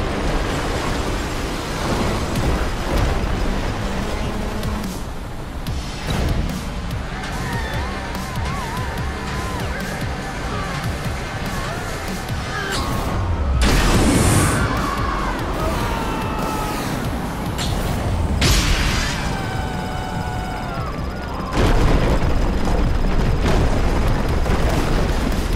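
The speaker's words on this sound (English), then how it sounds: "Explosive chain reaction underway." Building demolition explosions go off in the video game ScreamRide, deep booms and crashing debris in loud bursts over a long stretch of ambient music and rumble.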